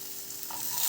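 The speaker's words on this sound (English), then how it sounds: "tofu, which is just cooking gently" Tofu with a mixture of tomatoes, mushrooms and onions cooks gently in a pan, giving a soft, steady low sizzle with light stirring that grows slightly louder toward the end of the brief moment.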